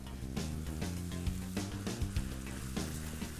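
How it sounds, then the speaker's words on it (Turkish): Chopped onions and minced meat frying in a pan, a steady close sizzle with soft crackles and occasional stirring, with no voices. "Soğanlarım hafif yumuşayana kadar kavuruyorum."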